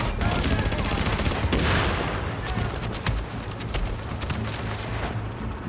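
Sustained heavy automatic gunfire in The Division video game, a dense continuous fusillade of overlapping shots and bursts with radio-style voice callouts mixed in, loud throughout.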